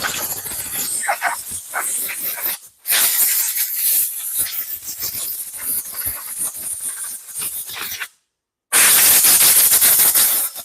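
Compressed air blasts sawdust off a Stihl 194 T chainsaw, a loud steady hissing spray that runs for several seconds, cuts briefly, then returns harder after a short silence.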